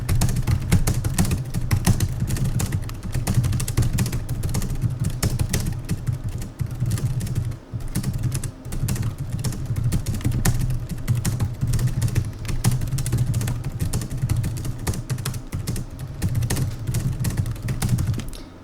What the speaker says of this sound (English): But let's get a feel for that keyboard really quickly.